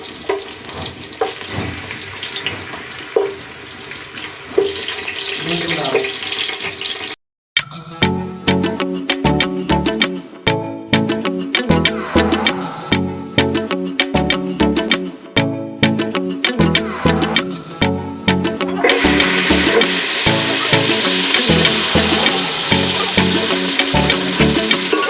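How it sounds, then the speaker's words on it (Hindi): Carrots frying in a pan for vegetable pulao, a steady close sizzle interrupted by a brief cut, then clattering stirring with a spoon against the pan before the loud sizzle resumes. "अब हम इसमें जो है वो गाजर फ्राई करेंगे।"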